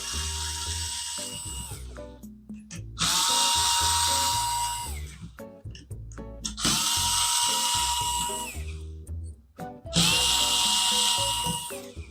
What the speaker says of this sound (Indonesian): ini obeng listrik bener-bener membantu gue sekali guys